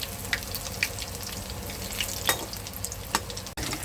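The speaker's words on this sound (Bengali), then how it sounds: "গ্যাসটা কমিয়ে রাখতে হবে, কমিয়ে কমিয়ে ভাজতে হবে, তা নাহলে ভিতরটা কাঁচা থাকবে।" Cabbage pakoras fry in oil over a low gas flame, making a close, steady sizzle scattered with sharp crackles and pops.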